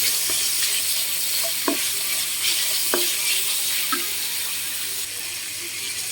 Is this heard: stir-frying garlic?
yes